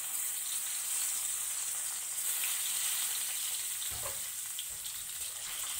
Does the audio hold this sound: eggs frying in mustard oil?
yes